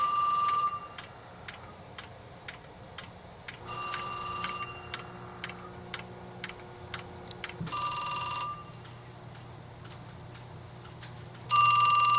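A telephone rings in evenly spaced bursts on a line shared with an alarm panel, each ring loud and near, separated by quiet gaps with faint periodic ticking between them.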